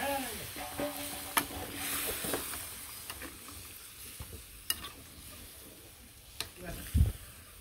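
A spoon stirs a sizzling curry in a pan just after hot water is added, giving a low hiss with scattered scraping clicks and a heavier clatter near the end, fairly quiet and close.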